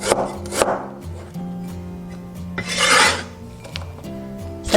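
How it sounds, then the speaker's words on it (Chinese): Fresh ginger sliced with a knife on a cutting board during fish prep, heard as a few sharp close chopping strokes with pauses and light scraping between them, no one talking. "生姜切片，"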